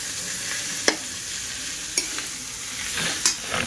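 Chopped vegetables tossed into a pan with onions frying in oil, giving a continuous bright sizzle. A spoon scrapes and clinks against the pan a few times, close and distinct over the hiss, with no talking.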